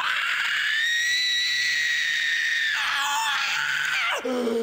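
Someone screams in one long, loud, continuous cry that shifts pitch and then breaks off abruptly near the end.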